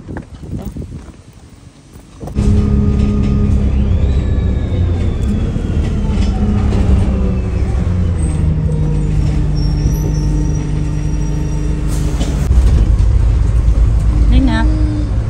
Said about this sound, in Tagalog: Come here, the bus is here.